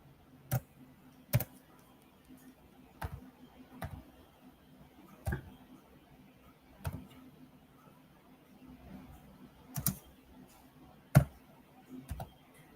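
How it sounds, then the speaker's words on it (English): Sparse, sharp computer keyboard clicks at an irregular, slow pace over a low steady hum, with long gaps between strokes. "I'm slow typing, but I'm getting there."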